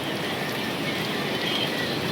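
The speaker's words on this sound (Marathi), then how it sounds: "तर आज मोक्कार पाऊस चालू आहे." Heavy rain falls in a village in Maharashtra, a dense, steady broadband hiss that runs unbroken and fairly soft throughout.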